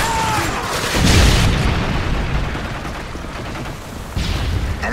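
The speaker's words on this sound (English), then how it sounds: "Predator missile inbound." A Predator missile strike in Modern Warfare 3 on the Oasis map erupts as a loud, dense boom with rumbling gunfire and explosion noise throughout, swelling near the start and hitting again near the end.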